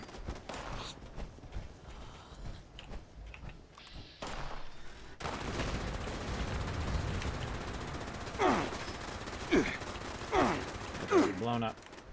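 Gunfire in the Fallout 76 video game: a few scattered shots, then a busier stretch of sharp bursts and rapid reports over steady background game noise, with a short mechanical rattle near the end.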